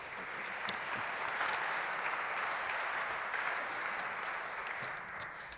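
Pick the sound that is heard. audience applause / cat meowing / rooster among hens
audience applause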